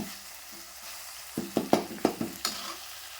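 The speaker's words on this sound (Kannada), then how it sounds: "ನಾನು ಮೀಡಿಯಮ್ ಫ್ಲೇಮ್ನಾಗ ಇಟ್ಟ ಈ ಖಾರನ ಫ್ರೈ ಮಾಡ್ಕೊಂಡಿದ್ದೀನಿ" Chili powder frying in oil on a medium flame: a low, quiet sizzle, then a quick series of five or six louder scraping strokes of a spoon against the pan.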